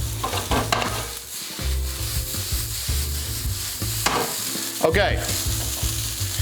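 Rice, edamame, peas, garlic and ginger stir-fry in a hot pan, a loud close sizzle broken by repeated scraping and tossing strokes; a voice speaks once briefly.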